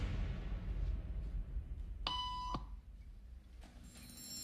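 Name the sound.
beep tone in a social conformity experiment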